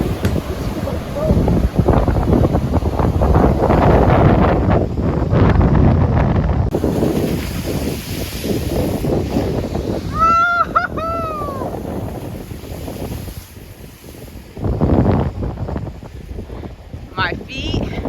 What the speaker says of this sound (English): we're going to actually walk on the pier when there's some breaking waves